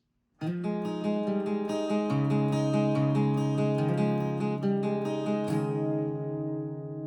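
Strummed acoustic guitar plays the ringing interlude of a song, full and steady for several seconds before the last chord fades out, with no voices.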